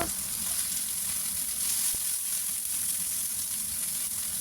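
Squid adobo with tomato sizzles steadily in a pan, a dense close frying hiss with a faint scrape of stirring, no voices.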